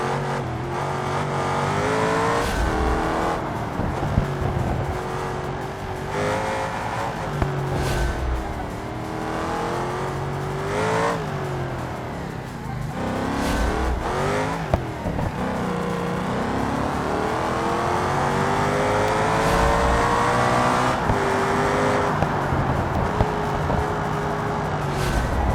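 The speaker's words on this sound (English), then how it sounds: "A little bit more volume on that exhaust." A car's exhaust drones and revs continuously in the BeamNG driving game during a time-trial run, its engine note rising and falling through gear changes, loud and steady with no voices.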